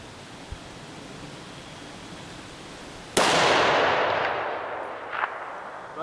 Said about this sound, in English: So we're going to use our 308 bolt gun to take care of them.